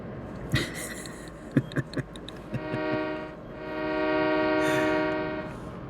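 A loaded train in a video game rumbles along with clanking, rhythmic knocks of the wagons, followed by a long, loud blast of the horn.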